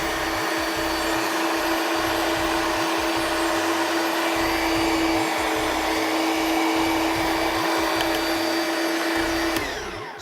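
An electric chopper mincing meat for kebabs whirs steadily and loudly for about ten seconds with a pulsing motor drone, then cuts off near the end; no one talks over it.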